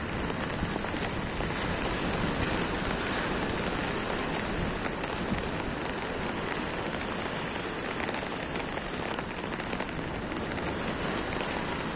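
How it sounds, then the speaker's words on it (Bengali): Heavy rain pours steadily by the sea at Marine Drive, a dense, unbroken hiss of drops hitting surfaces throughout, loud and close with no voices. "দেখেন প্রচুর বৃষ্টি হচ্ছে"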